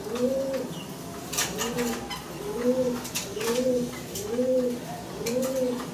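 Shirazi pigeons cooing in a steady repeated rhythm, about six rolling coos close by, with faint wing flutters and rustling in the background.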